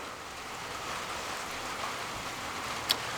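Steady rain falling outdoors under grey skies, a dense even hiss of drops close around, with one brief sharp tick near the end and no voices.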